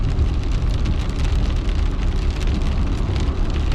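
Rain drums steadily on a moving car while driving in wet weather, a dense, close patter over a low road rumble that continues without a break, with no voices.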